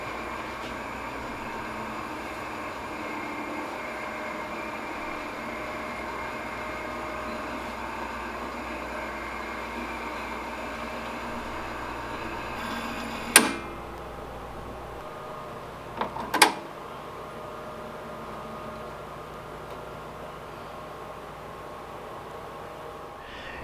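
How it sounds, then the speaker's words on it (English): A Brother Persona embroidery machine winds a bobbin with a steady, even motor whir. Two sharp clicks sound near the end, and no one speaks. "Now let's go ahead and let this bobbin fill up."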